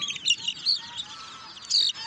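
A flock of native village chicks peeping, rapid shrill overlapping calls in bursts, close by, with faint low background noise.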